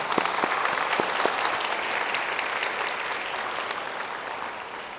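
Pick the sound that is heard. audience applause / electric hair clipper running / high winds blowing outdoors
audience applause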